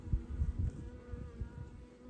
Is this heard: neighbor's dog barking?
no